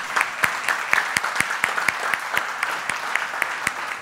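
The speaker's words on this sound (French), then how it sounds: "Voilà, on peut les applaudir." A conference audience applauds with distinct, fairly regular individual claps standing out over a steady wash of clapping, holding at a moderate level throughout.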